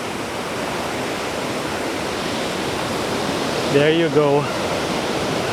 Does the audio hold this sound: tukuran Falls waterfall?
yes